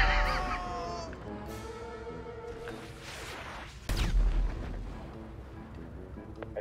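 A missile launches from a silo in the video game GTA, heard as a rumbling, roaring blast with a sudden loud boom partway through over a continuous low background din.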